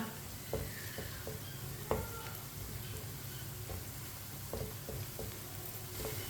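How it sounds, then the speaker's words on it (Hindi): Finely chopped onion fries in a pan for karela sabzi until lightly browned, giving a steady close sizzle with a few soft knocks of a spoon stirring through it. "प्याज को हल्का सा ब्राउन कर लेंगे, इसे ज़्यादा ब्राउन नहीं करना।"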